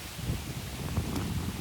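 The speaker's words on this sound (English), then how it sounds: "Sorry, it's really windy out today." Steady low rumbling buffeting of wind against the microphone, continuous and fairly loud throughout, with no other clear sounds.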